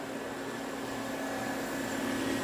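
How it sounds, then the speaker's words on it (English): Welding parts onto the rear end of a Mazda Miata GT1 build, a steady buzzing hiss that holds at an even level throughout, alone with no voices. "I'm gonna go ahead and weld these in"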